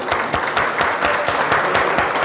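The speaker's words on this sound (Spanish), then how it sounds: "El aplauso." Brief applause from an audience at an addiction conference, a steady patter of clapping hands at moderate volume with no talking.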